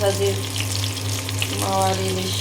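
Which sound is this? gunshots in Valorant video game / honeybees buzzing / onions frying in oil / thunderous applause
onions frying in oil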